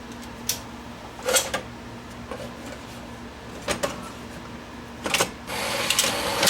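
A Sony VO5800 U-matic VTR loads a 3/4-inch tape with faint mechanical whirs, clicks and short motor bursts over a low steady hum, in a quiet room.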